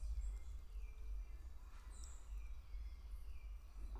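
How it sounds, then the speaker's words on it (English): Birds call outdoors in Brazil, faint scattered chirps and short whistles spread across a quiet background with a low steady rumble, no talk. "Just the birds right now."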